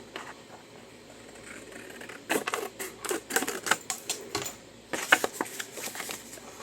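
Scissors snip through the side gussets of paper library pockets, giving a run of sharp, close cutting clicks and crunches in quick irregular bursts over a quiet room.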